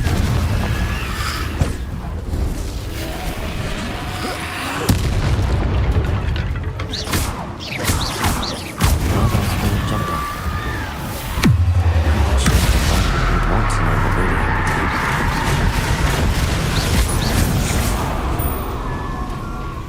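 Confringo, the fiery explosive spell in the video game Hogwarts Legacy, bursts with a loud boom amid ongoing combat effects, rumbling impacts and magic crackles layered throughout.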